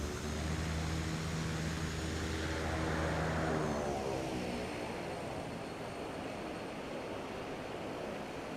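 A propeller aircraft flies in Microsoft Flight Simulator 2024 on a PS5 Pro, its steady engine drone loud at first with a low tonal hum, then easing into a softer, broader rushing wash.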